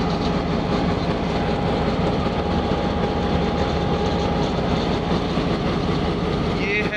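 A Pakistan Railway GMCU 15 4910 diesel locomotive, about 45 years old and working as a banker engine, runs close by with a loud, constant engine drone and rumbling rail noise for the whole stretch.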